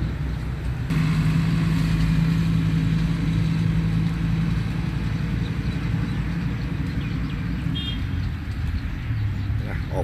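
A Komatsu PC-120 excavator engine runs at a steady, loud diesel drone close by, continuous throughout with no talk over it.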